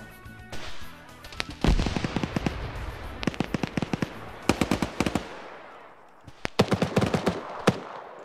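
A grenade explosion and gunfire in a PvP video game match: a heavy boom followed by clusters of sharp rapid shots in bursts, loud and close, with short lulls between volleys.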